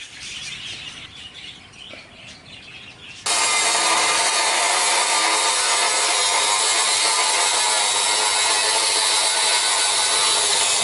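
Power saw slicing a 16.5-inch length of 4-inch box metal in half lengthwise, starting abruptly after quiet handling noises and then grinding loudly and steadily, close by, with no talk.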